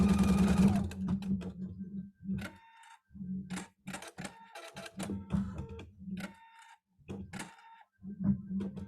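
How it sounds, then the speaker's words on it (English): Embroidery machine stitching a heavy tack-down pass, a dense mechanical chatter that runs in bursts with short pauses, close and fairly loud with no talk. "So this is our tack down stitch, and this is going to be a much heavier stitch than we'd had before."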